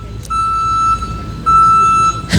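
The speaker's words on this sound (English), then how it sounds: "Deal with that annoying beeping." A steady electronic beep tone sounds in two long stretches, fairly loud over a low rumbling background, with a brief clatter at the end.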